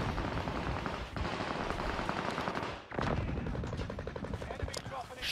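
Video game gunfire comes as dense, rapid crackling bursts that nearly fill the whole stretch, with a brief drop near the middle, mixed with game noise and some faint talk.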